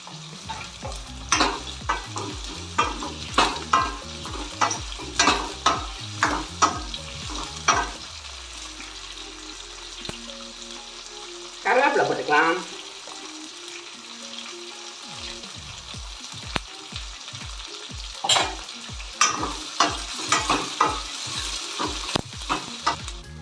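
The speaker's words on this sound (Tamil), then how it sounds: "முருங்கைக்காய் ரெண்டையுமே போட்டுருவோம் எண்ணெயில் கொஞ்சம் நேரம் வதங்கட்டும்" Drumstick vegetables sizzle and fry in hot oil while being stirred with scraping clatters; the frying quiets for a few seconds mid-way, then resumes.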